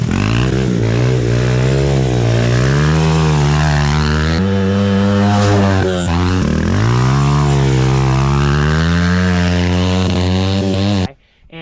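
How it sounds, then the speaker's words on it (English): A 100cc Honda dirt bike engine revs loudly and close, its pitch rising and falling through repeated throttle swells, briefly dipping mid-run before cutting out at the end. "We're riding a 100cc Honda dirt bike."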